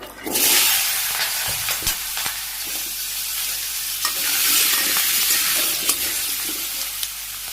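Chopped bottle gourd with green chilies, bay leaf, dried chili, cumin and spices fries in a pan, a loud steady sizzle with a few sharp clicks as a spatula stirs.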